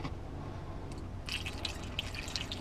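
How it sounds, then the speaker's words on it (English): Water trickles and drips into RV batteries while they are being refilled, with a low steady hum underneath and brighter splashy bursts in the second half, close to the mic and with no talking. "see how much water I'm putting in?"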